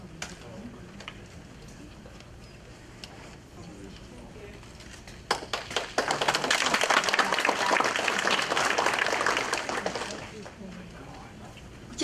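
Audience applause at a scholarship awards ceremony starts suddenly at a presentation and swells into steady, fairly loud clapping from a sizeable crowd before fading out, with background speech before it begins.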